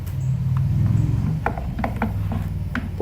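Screws are tightened into the plastic body of an FX6 aquarium canister filter pump, giving close, ratcheting mechanical clicks and turning noises over a low background hum.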